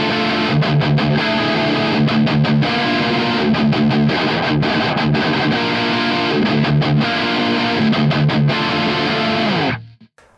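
Heavily distorted electric guitar riff through a modded Marshall SV20 amp on the low input, dense and loud with rhythmic chugging stops, ending abruptly in silence.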